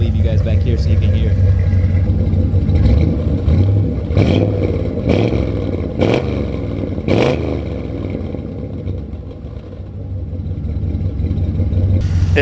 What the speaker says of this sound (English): This thing sounds so sick with the Flowmaster's exhaust.